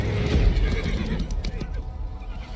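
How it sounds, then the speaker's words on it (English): Horses neighing and whinnying in a Total War: Warhammer trailer, loudest at the start and fading over a dense low rumble of ambient noise and background music, with hoof clatter mixed in. "when the horses start freaking out, you're fucked"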